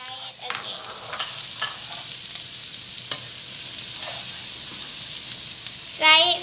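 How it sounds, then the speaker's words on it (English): Vegetables fry in a hot pan with a steady, bright sizzle, broken by occasional scraping stirs and a louder hiss flaring up near the end. "Now we will fry it again."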